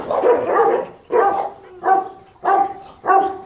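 A dog barks five times in a steady series, each bark sharp and close with roughly even gaps, and no talking over it.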